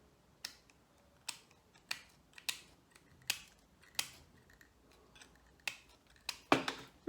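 Scissors cut springy material for a fishing cage feeder in about a dozen sharp, evenly spaced snips, close and clear over a quiet background with no talking.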